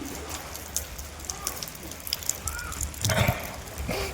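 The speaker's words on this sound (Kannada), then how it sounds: "ಮಳೆ ಶುರು ಆಯಿತು." Rain starts falling at a house construction site where tarpaulins are being pulled over the work, heard as a faint, uneven patter of drops with scattered louder taps and some voice sounds mixed in.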